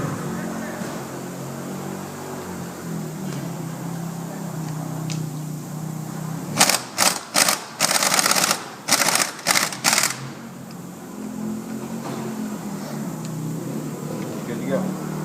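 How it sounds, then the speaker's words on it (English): An impact wrench tightens a car's lug nuts, firing in about eight rapid bursts of loud rattling hammering near the middle, with quieter ambient noise and shuffling before and after. "Now my assistant will tighten the lug nuts back on so I can make this more fast."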